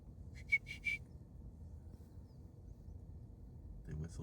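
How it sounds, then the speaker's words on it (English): Prairie dogs in Colorado trade short, high whistles, a quick cluster of three or four chirps early, then a fainter call at the end, heard at moderate distance over quiet outdoor background. "They whistle to each other."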